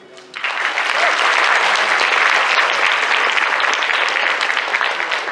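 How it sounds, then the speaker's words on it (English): Sustained applause from a high school theatre audience for the cast of Twelve Angry Men, a dense wash of clapping that starts abruptly and holds steady and loud throughout. "Just a round of applause for the cast, please."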